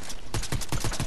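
Gunfire in a video game, a quick burst of about five evenly spaced sharp shots in just over a second, close and fairly loud.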